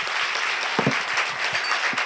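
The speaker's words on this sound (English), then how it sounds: "Round of applause for Dr. Bremmer." A lecture audience gives Dr. Ian Bremmer a round of applause, a dense wash of many hands clapping continuously in a hall, fairly loud and even throughout.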